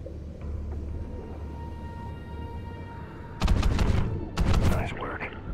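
Underwater gunfire in the video game Call of Duty: Ghosts, two muffled, rumbling bursts of rapid shots over a low, murky underwater ambience, near and fairly loud with a short gap between them.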